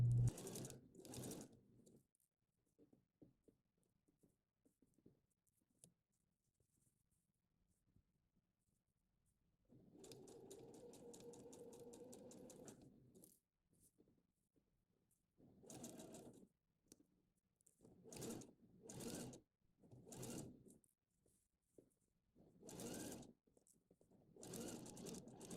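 A sewing machine stitches a sleeve into a shirt at the shoulder head, running in one steady stretch of about five seconds and then in several short bursts, close and fairly loud, with no talk.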